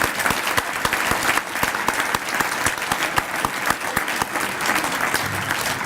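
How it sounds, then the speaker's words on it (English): A dinner audience at an alumni awards evening applauds the award recipients, dense steady clapping from many hands throughout, fairly loud with no voices standing out. "one last round of applause for all of our recipients here tonight"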